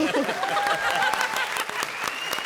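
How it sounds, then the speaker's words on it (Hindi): Studio audience applauding at a Comedy Circus taping, dense steady clapping throughout with cheering and a host's amplified tones riding over it. "जोरदार तालियां कृष्णा और सिद्धार्थ के लिए।"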